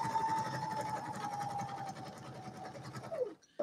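A sewing machine stitches felt between paper journal pages in a steady, rapid whirring run close up, then slows and stops near the end.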